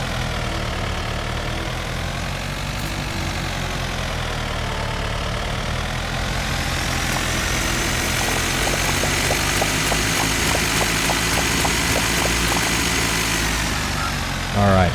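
Tractor engine in the farming game Dinkum, a steady idling drone running throughout with a rising pitch shift partway through, heard under someone talking.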